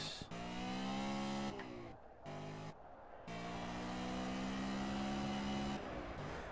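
A BMW GT4 race car engine in the Project Cars video game revs hard and loud, its harmonic whine climbing through gears with brief dips at shifts before pulling strongly again.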